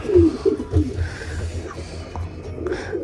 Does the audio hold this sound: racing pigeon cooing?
yes